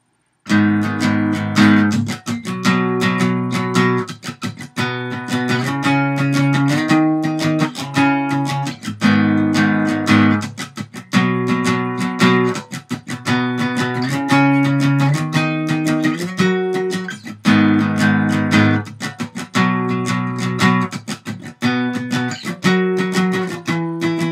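A guitar strums the steady, repeating chord progression of a final chorus for a long stretch, rhythmic and full, with no voices.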